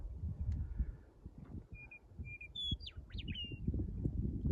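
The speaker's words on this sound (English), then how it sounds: "The western meadowlark is the Wyoming state bird." A western meadowlark in open Wyoming country sings a short, clear run of whistled, slurred notes that rise and fall, sounding at moderate distance over gusty low wind rumble.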